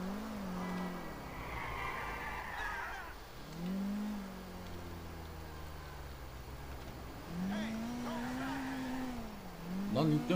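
A car driven in GTA IV, engine revving and shifting as it accelerates in repeated rising sweeps, steady under someone talking over it.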